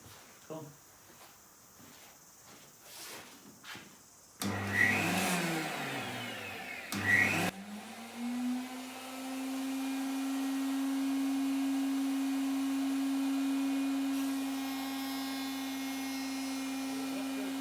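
A wood router spins up with a rising whine that settles into a steady, loud, even hum, following sharp cutting bursts and clatter earlier while making kitchen drawers in a workshop; someone talks briefly over the noise.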